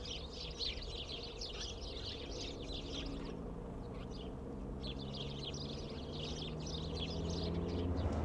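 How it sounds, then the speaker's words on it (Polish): Birds chirp steadily in bursts of high twittering along a café-lined promenade in Turkey, fairly faint over a low, continuous outdoor rumble. "Pięknie, jak ptaszki ćwierkają."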